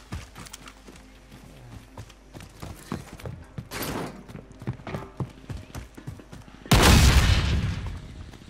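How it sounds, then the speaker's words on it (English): Explosives thrown and going off in a video game, a loud broadband blast erupting partway through and fading over a couple of seconds, after scattered thuds and clatter. "Why are you throwing explosives?"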